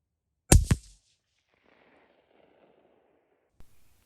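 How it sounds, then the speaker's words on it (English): A .204 Ruger rifle fires outdoors: two sharp, loud cracks in quick succession with a brief echo tail, quiet after, then a fainter third report near the end, with no voices. "So I fire a 4th shot just to make sure I didn't mess up that second one."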